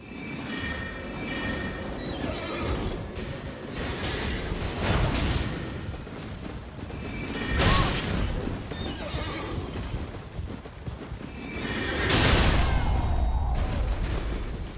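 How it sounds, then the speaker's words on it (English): A horse in Elden Ring whinnies loudly twice, with hoofbeats clopping and a rough ambient rumble underneath throughout. "Free horse, free horse, free horse. A proper horse, like a normal ass horse."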